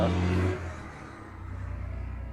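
A loud truck rumbles past at night, strongest in the first half second and then fading into a steady low drone as it moves away.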